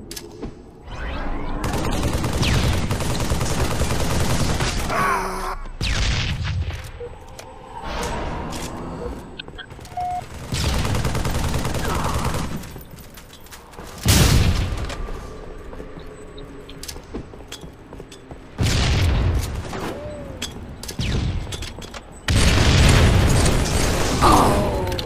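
Bursts of gunfire and booming grenade explosions in a video game firefight, coming in loud clustered waves separated by brief quieter gaps, with a player's voice talking at times.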